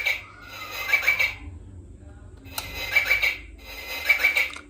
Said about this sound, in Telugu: సో పక్షి సౌండ్, బర్డ్ సౌండ్ వచ్చింది.